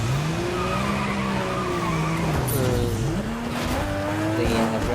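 Car engine revving and shifting pitch with tires skidding and squealing in Fortnite, new car on the Drive Nation map, a continuous loud drive with rising and falling engine tones and scraping skid noise throughout.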